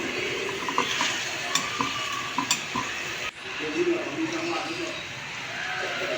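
Chicken pieces sauté in hot oil for pininyahang manok while a utensil stirs and scrapes the pan, giving steady sizzling with scattered clinks and scrapes, fairly close and loud, with a brief clatter midway.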